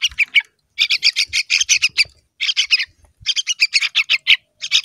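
Baby birds being hand-fed in a garden give shrill, rapid chirps and squawks in close, loud bursts separated by brief silences.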